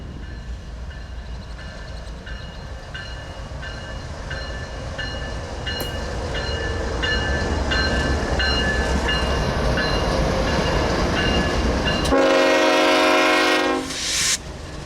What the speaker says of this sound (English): the northbound train prepares to take the slow turn eastward onto the Willard Subdivision